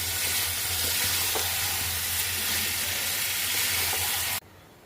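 Mutton braising and being stirred in a pan gives a loud, steady sizzle with faint stirring scrapes, running continuously before cutting off abruptly near the end.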